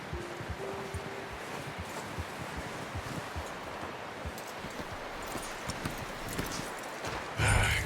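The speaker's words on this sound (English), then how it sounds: "I'm gonna hitch Taima over here." Horse hooves clip-clopping at a walk in Red Dead Redemption 2, a steady soft rhythm over outdoor ambience of rustling and wind, moderately close, with a brief louder bump near the end.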